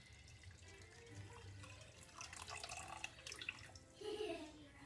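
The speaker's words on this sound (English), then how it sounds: "Trying to pour the water back." Water poured back from a very hot, slippery glass, a soft trickling and splashing stream that builds toward the end, fairly quiet and close.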